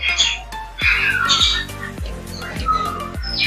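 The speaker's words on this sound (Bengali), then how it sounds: "ওই দেখেন কাকাতুয়া।" A cockatoo at Gokarna park lets out loud, harsh squawks, several in a row with short pauses between them, close by and clear.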